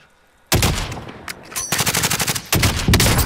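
Close automatic gunfire in a battle royale video game comes in rapid bursts, a sharp volley, a short rattling string, then another burst, loud with no talking over it.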